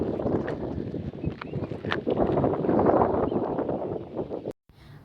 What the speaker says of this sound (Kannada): ತಂಪಾದ ಗಾಳಿ ಬರ್ತಾ ಇದೆ.